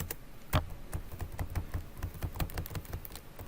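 Someone types fast on a computer keyboard that has a few faulty keys, producing a rapid, uneven run of crisp clicks and taps up close, with one heavier keystroke early on.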